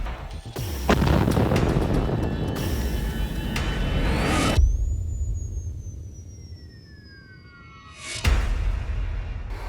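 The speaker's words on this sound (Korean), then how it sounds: "전기 제어반에서 전기적 접촉이 일어날 때 수소가스를 만나게 되면 무서운 폭발로 이어질 수 있는 것이다." Hydrogen gas explodes after an electrical contact in a control panel, in a test linked to sprinkler piping. A loud blast roars on for seconds, then a falling whine sounds and a second heavy burst follows.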